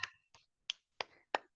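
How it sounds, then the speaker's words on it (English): Five sharp hand claps spaced about a third of a second apart, each a crisp isolated burst, quiet and fairly close, with no talking. "Clap all around you"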